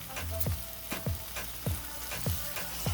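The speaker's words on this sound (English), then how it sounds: "Add your eggplant to the saute seasoning with a pinch of salt." Eggplant sizzles in a hot pan with saute seasoning and salt, a steady frying hiss broken by regular rhythmic stirring scrapes about every half second, close and clear.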